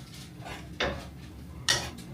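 A fork scrapes and clinks against a dish while mixing melted butter in a home kitchen, giving two sharp metallic taps amid soft stirring, faint and close.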